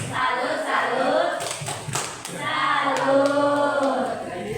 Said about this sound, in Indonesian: Tepuk salut aja. Tepuk salut.